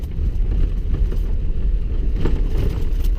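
Car rolling slowly along snow ruts on a snowy Louisiana road, a steady low engine and tire rumble with some wind buffeting on the microphone, close and continuous throughout.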